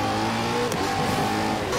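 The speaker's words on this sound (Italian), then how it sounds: "Va troppo sta macchina rispetto agli altri." Koenigsegg Agera RS engine roaring steadily under acceleration in Forza Horizon 4 during a street race near a castle, a loud continuous drone with no gaps, sounding close and alone without talk.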